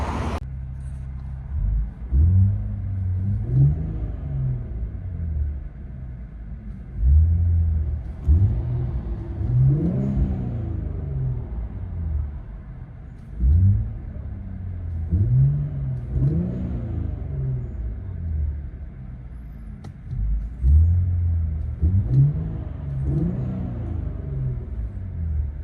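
A 2021 Infiniti Q60 Red Sport 400 with an ARK cat-back exhaust drones deep and steady from inside the cabin. The note swells into several repeated revving surges, then drops back to a low rumble between them.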